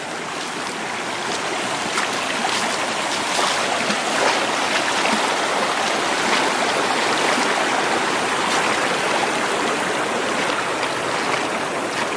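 Cold stream water rushes and splashes steadily around someone wading across it in a valley, a close, continuous wash of sound for the whole stretch, with no talking.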